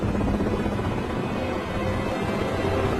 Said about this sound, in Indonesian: Saat helikopter sedang di perjalanan